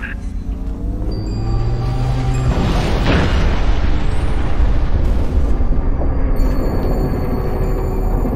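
Artillery fire exploding in the Halo: Reach video game, a sustained heavy rumble of booming blasts over steady battle noise and radio tones, loud and continuous after a sharp onset.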